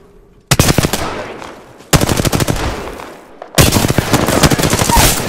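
Automatic weapon fire in the Apex Legends video game: three loud bursts of rapid gunshots, each lasting one to two seconds, separated by short pauses.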